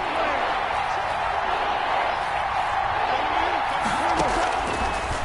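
Stadium crowd noise in an American football video game, a broad steady roar rising slightly toward a big third-down play, with an announcer-style voice faintly underneath.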